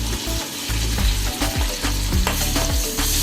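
Ginger and garlic paste frying in oil for a bitter gourd dish give a loud, close sizzle, with repeated scraping and clattering from stirring and no voices.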